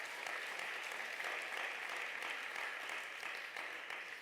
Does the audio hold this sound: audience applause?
yes